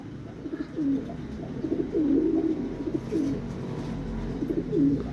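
Racing pigeons coo repeatedly at close range in a steady rhythm of soft, throaty calls, with a low background rumble and no talking.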